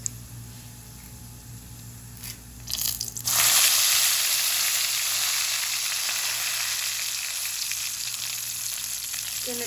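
Curry leaves dropped into hot oil, a couple of soft taps followed by a sudden loud sizzle that stays steady as the frying goes on, close up with no talking.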